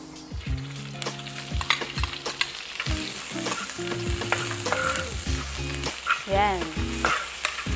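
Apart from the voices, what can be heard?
onions sautéing in olive oil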